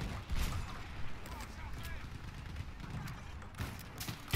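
Gunfire in the first-person shooter Battlefield 1 during a night match, dense muffled bursts and rumbling shots rolling continuously under a busy battlefield mix, fairly loud throughout.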